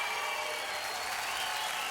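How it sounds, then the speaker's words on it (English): A crowd applauds at a 1995 Australian Gladiators event after a competitor scores on the rings. The clapping forms a steady, dense wash of hand claps that sounds fairly faint and distant and holds an even level throughout. "the crowd showing their appreciation"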